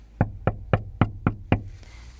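Six evenly spaced, firm knocks on a gate thud close and loud at a steady rhythm, followed by a brief quiet tail.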